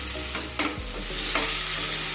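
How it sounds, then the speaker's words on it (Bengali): Pointed gourd pieces being stirred and sautéed with mung dal and spices in a pan, with scraping strokes of a spatula over a constant low sizzle, close and fairly quiet, no voices. "কিছুটা নাড়াচাড়া করে পটলগুলোকে ডালের সাথে 1 মিনিট মতো কষিয়ে নেব"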